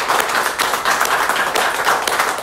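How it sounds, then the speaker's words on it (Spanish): A congregation at a Santa Muerte novena applauds loudly, dense close clapping in rapid, slightly pulsing waves filling the whole moment. "Demos un fuerte aplauso a nuestra Santa Muerte"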